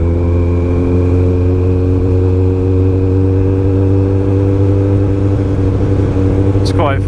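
Loud motorcycle ridden at midnight, a steady deep engine drone with strong low harmonics, close and constant throughout, with a brief higher squeal near the end.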